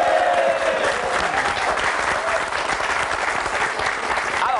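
Steady studio audience applause at a televised quiz show, dense clapping sustained throughout at fairly close range with a faint undercurrent of crowd voices.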